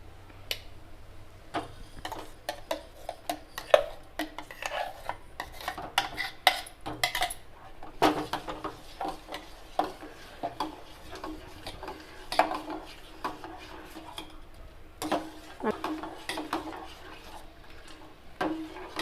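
A spoon knocks against a pot as carrot paste is stirred into heated milk for carrot payasam. The clinks are quick and irregular, fairly close, and come in bursts with short pauses between them.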